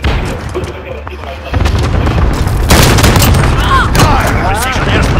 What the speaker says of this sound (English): Allied forces strike incoming.